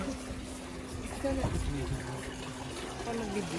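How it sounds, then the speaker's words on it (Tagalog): Running water splashes steadily over hands at a purification fountain of a Japanese shrine in Shiga Prefecture, a continuous close trickle and pour with people talking over it. "So, dito po is maghugas ng kamay."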